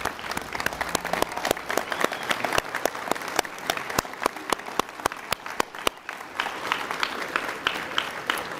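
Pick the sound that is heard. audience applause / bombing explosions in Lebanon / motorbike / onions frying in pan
audience applause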